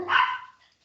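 Three rescue dogs bark at someone at the front door of a home, giving a short, loud burst of a bark or two up close that fades quickly.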